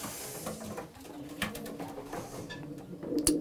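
Racing pigeons coo steadily at feeding time, a soft overlapping murmur of calls with faint clicks and rustles around them and no voices.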